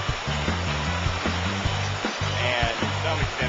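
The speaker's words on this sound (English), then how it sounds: "this is definitely the prettiest fast water, even though it's a small creek" Fast water rushing through a small creek, a steady broadband wash with low bubbling churn, close and continuous with no pauses.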